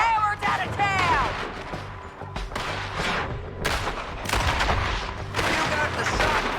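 Rapid gunfire from a Red Dead Redemption 2 shootout, with repeated loud shots and bursts, rough booms and reverberant cracks, while voices shout over the fighting.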